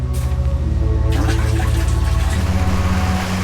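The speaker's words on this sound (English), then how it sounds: "We also got acquainted with the manual flush toilet." A manual flush toilet on the small Thai island of Koh Lipe is flushed by hand with water, a loud close rush and gurgle of pouring water with a sharp start that settles into a steady flow.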